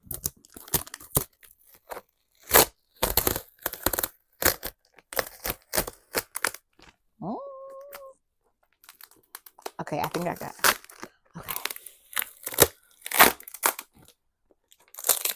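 Packing tape ripped off a heavily taped cardboard box, in repeated sharp tearing and crinkling bursts close by, with a brief squeak partway through and someone talking between the tears.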